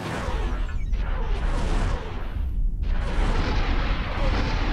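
Weapons fire in a space battle in the X4 video game, heavy booming blasts and rumbling bursts rolling one after another at high, steady loudness, with a brief lull partway through.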